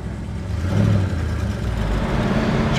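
A 1967 Chevrolet Chevelle SS accelerating on the road, its engine a loud, steady low roar heard from inside the car that swells briefly and then holds under continuous road noise.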